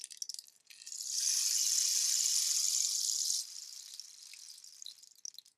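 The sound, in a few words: rain stick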